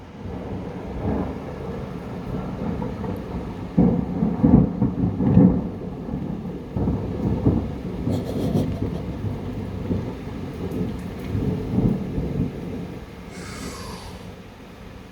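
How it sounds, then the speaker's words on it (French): A strong hailstorm at home in Alsace, France, on 2 June 2025, with steady rain and low rumbling thunder, several heavier rolls around the middle, all without voices. "C'est le troisième orage fort que j'ai chez moi."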